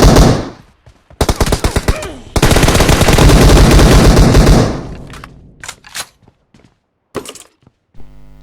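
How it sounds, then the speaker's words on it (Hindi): Rapid PUBG Mobile gunfire on the Livik map, with long loud automatic bursts and scattered single shots, close and dominant, thinning into sparse cracks and clatter toward the end. "लेकिन लगता है लास्ट बुलेट रॉकर का लग गया था"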